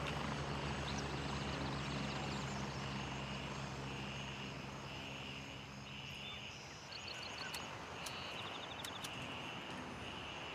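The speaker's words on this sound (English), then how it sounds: "That is a close landing, chopper." A helicopter from the video game Arena Breakout lands nearby, its steady rotor and engine drone filling the scene continuously, with small electronic beeps and chirps layered over the top.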